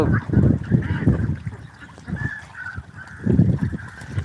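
Ducks on a duck farm call in a busy, overlapping chorus of nasal quacks and honks, close by, rising and falling in waves.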